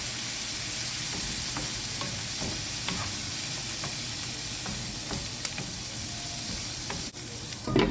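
Chopped onion and kangkong stalks sauté in a pan with a steady, dense sizzle, broken by faint scrapes and clicks of stirring.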